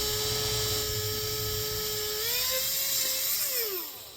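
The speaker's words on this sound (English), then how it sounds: "and just drilling that hole out." A small high-pitched 2.5mm drill whines steadily, its pitch rising then dropping as it bores out a hole in a Tamiya model kit part, close and continuous.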